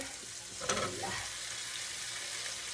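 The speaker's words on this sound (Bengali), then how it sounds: "দেখেন আমার মশলাটা কষে গেছে" Spiced masala paste sizzling steadily in oil in a home kitchen pan, with a soft hiss throughout and a brief stir near the start, no voices.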